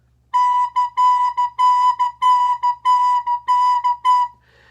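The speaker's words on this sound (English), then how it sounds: "Swing would make it so that the first eighth note in a set has a little bit more going on than the" A recorder plays a swung eighth-note blues melody based on Mary Had a Little Lamb, with long-short note pairs in a lazy, lilting rhythm. The notes are clear and close, and no one talks.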